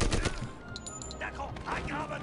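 Gunfire from the video game Medal of Honor Airborne, loud bursts of rapid shots at the start, followed by a speaking voice over continued battle noise.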